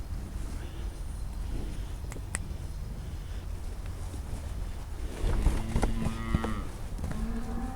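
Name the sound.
cow mooing, uncooperative black cow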